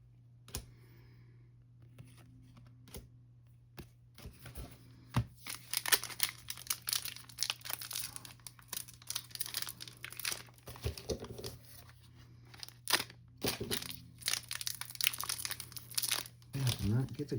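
A foil-backed trading card pack for the Chrono Core card game crinkles and crackles as it is handled and torn open, in dense bursts of close crumpling and sharp clicks, with a person talking at times.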